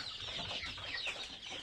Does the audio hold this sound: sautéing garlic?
no